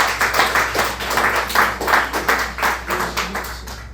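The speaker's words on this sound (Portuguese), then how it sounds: "Aplauda ao Senhor com o seu melhor." A church congregation claps in a steady rhythmic beat, about three claps per second, loud and close, with a low hum underneath and no voices.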